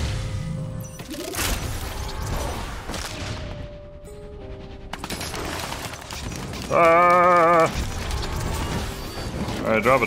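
A turret deploys amid a chaotic Risk of Rain 2 fight, mechanical clanks and bursts mixed with gunfire and effects, including a loud warbling tone partway through, with a voice talking over the action.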